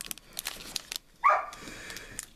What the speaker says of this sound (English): Dog's jumping under the bed and barking.